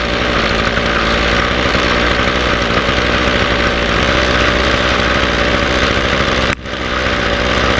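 A Ryobi 2-cycle weed eater engine idles steadily at close range after a new carburetor is fitted, a loud continuous buzzing drone with a brief dip near the end.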